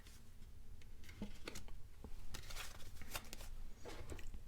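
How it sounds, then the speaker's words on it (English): A deck of tarot cards is shuffled by hand, with quick papery riffles and soft clicking flutters in irregular bursts, close and fairly quiet, with no talking. "No, I'll keep shuffling."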